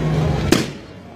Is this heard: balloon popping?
yes